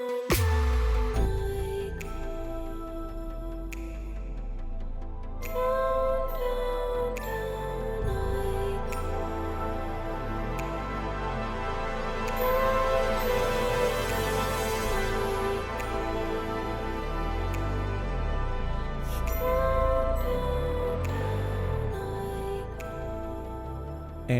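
Fat, warm cinematic synthesizers from the Dark Prophecy collection play sustained layered chords over repeating pulsing low notes, loud and continuous with no talking.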